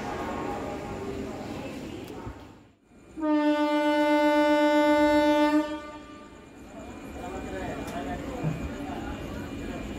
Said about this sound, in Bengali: ট্রেন ছাড়লো 5 মিনিট লেটে